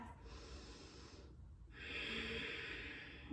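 Slow, steady breathing during a calm yoga session, a long soft exhale followed by a pause and then a deeper, airy inhale, close and quiet with no talk.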